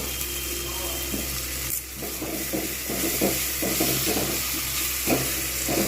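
Ginger garlic paste fries in a pan with a steady sizzle, broken by repeated scraping and stirring strokes at an irregular rhythm, close by and without talk.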